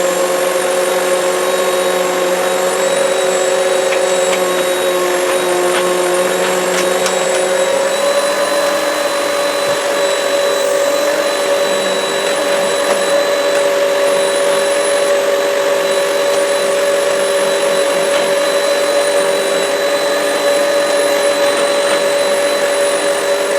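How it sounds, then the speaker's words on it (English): A vacuum cleaner fitted with a furniture brush runs over a Weslo Aero 800 exercise bike, a loud, steady, close whine with sustained tonal hum that continues unbroken and with no talking. "I'm using the furniture brush, my vacuum cleaner, to help get at least the loose stuff off it"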